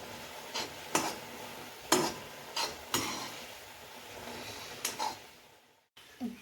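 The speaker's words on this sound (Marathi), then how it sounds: "आणि जरा मॅगी हलवून घ्यायची, कारण मसाला पूर्ण मॅगीला लागला पाहिजे" A spoon stirring Maggi noodles with masala in a pan on the stove: steady close scraping and rubbing, with several sharp knocks against the pan.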